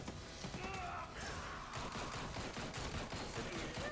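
Rapid gunfire in a Marvel video game crackles as dense, steady bursts of shots, fairly faint and continuous, with no clear talk over it.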